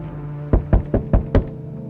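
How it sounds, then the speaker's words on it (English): Footsteps behind a door in a video game: five muffled, evenly spaced thuds, about a fifth of a second apart, over a steady low droning background. "I can hear your footsteps."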